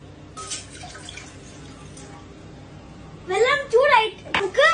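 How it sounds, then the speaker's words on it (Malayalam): Water is poured into a cooking pot for vegetable noodles, a brief splashing trickle early on, followed by someone talking. "നീ നമുക്ക് ഇച്ചിരി വെള്ളം ഒഴിക്കാം."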